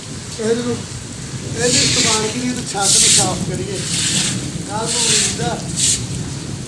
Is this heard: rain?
yes